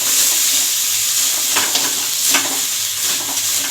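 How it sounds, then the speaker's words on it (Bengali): Chilli powder, turmeric and a little sugar fry in oil in a pan for a potato and pointed gourd curry, making a loud, dense, continuous sizzle with stirring surges close by, with no voices. "দিয়ে আমি ভেজে নিচ্ছি।"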